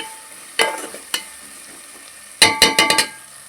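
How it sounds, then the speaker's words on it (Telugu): Ginger-garlic paste sizzles softly in a pan for a country chicken curry, broken by sharp scrapes and clinks of a spatula stirring, two single strokes early and then a quick run of several. "అల్లం వెల్లుల్లి పేస్ట్ కూడా మనకు మగ్గితే ఆ పచ్చి వాసన అనేది పోతుంది, అందుకని వేపుకున్నాం"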